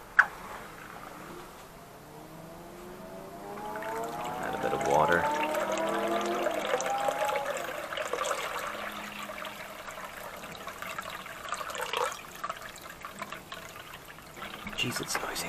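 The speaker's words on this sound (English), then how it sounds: "Now fill it with water." Water is poured into a PetSafe pet fountain, a steady liquid splash and trickle building at about four seconds and running on for ten more, with faint outdoor noise behind.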